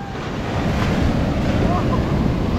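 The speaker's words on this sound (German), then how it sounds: "Die Wellen sind, glaube ich, für Surfen echt super." Ocean surf rolling onto the beach at Kenting, Taiwan, a steady broadband wash of breaking waves mixed with wind buffeting the microphone, continuous and fairly loud throughout.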